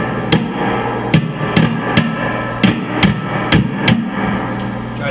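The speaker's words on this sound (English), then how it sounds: "like the preamp tube input here, I'll tap it on the side a little bit" An amplifier preamp tube tapped on its side, producing a series of about nine sharp, evenly spaced clinks over a steady amp hum and hiss, heard close up with no talking.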